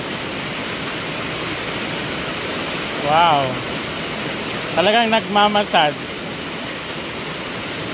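Gabur-Gabur Falls pours with a constant, powerful roar of falling water, a broad, steady rush throughout while a person briefly exclaims and speaks over it.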